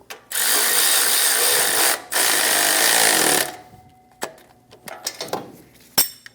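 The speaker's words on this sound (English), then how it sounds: "Using a 17mm wrench, I'm going to hold the head of the bolt while using a 14mm socket to snug down the nut." A wrench and socket run down exhaust manifold flange nuts on a 2011–2018 Ram 1500 5.7L V8. Two long, loud ratcheting runs are followed by scattered quieter metallic clicks and taps.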